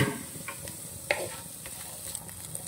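Beetroot and sweet corn frying in a pan, a soft steady sizzle with light stirring scrapes and occasional taps, close and moderately quiet.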